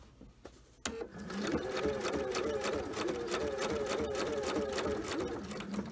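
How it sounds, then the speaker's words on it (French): A FAF sewing machine stitches a circle with variegated thread, running steadily at close range after a brief start, its rapid rhythmic needle clatter continuous and fairly loud. "Et je vais commencer à coudre le rond."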